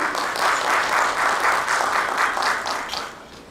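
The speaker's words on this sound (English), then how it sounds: "Please give a round of applause for her." Moderate audience applause for a panelist at a domestic violence awareness event, an even patter of many hands that holds steady, then gradually fades toward the end.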